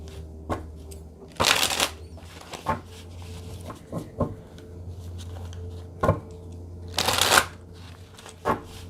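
Tarot cards are shuffled by hand, with two loud riffling bursts and scattered soft snaps and taps of cards being handled and laid down, near and alone.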